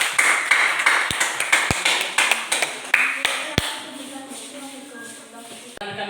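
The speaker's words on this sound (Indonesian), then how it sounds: "Ya, tepuk tangan sekali lagi ya." A small group of students claps in a classroom, with sparse, uneven hand claps and sharp taps rather than a full ovation, fading after a few seconds amid shuffling.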